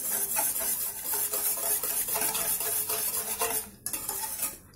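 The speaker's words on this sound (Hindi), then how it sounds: "इसे मिक्स कर देंगे अच्छी तरह से।" A spoon briskly stirs cocoa powder and sugar together in a cup for hot chocolate, producing rapid rhythmic scraping and clinking close up, which stops abruptly near the end.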